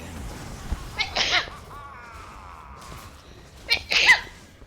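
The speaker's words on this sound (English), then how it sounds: "And I have to sneeze." Two sharp sneezes from a game commentator about three seconds apart, fairly close and loud, with a quiet drawn-out sound between them.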